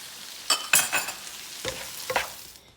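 Mushrooms and garlic hit a hot pan and sizzle, with a few sharp stirring scrapes and bursts of frying crackle that fade quickly over a quiet background.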